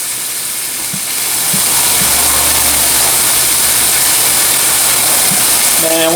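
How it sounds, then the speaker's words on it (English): Steak sizzling in a hot pan while steak and eggs cook, a loud continuous hiss that swells after the first second and stays steady, with a few faint clicks and a brief tonal sound near the end. "this mic is picking up on the sizzling"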